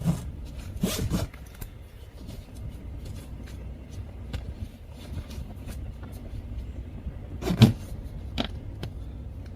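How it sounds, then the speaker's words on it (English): A zipper on a 2014 Toyota Tundra CrewMax seat cover is pulled open in a couple of quick rasping strokes, close up, with cloth rustling and light handling noises between them. "the second section is this other zipper"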